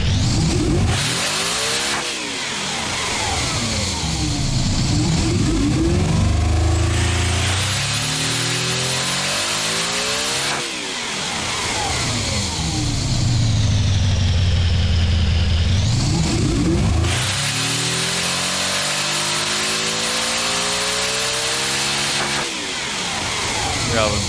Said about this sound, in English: This is a quad turbo V16. That is absolutely ridiculous.